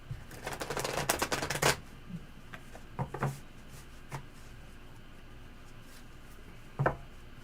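A tarot deck being shuffled in a dense riffling burst at the start, followed by scattered lighter card taps and slides, close and fairly quiet.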